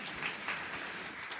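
A university church group's audience applauds its mentors at a Sunday talk concert, a steady wash of clapping filling the short moment at an even level with no speech over it.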